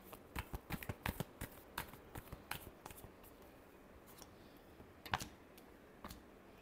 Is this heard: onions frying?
no